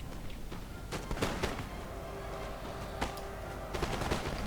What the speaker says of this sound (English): My guys are firing at the Fencibles